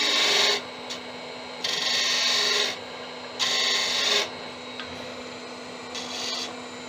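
A newly turned wooden shop mallet being hand-sanded: four scratchy rubbing bursts, each lasting about a second, separated by short pauses over a faint steady hum.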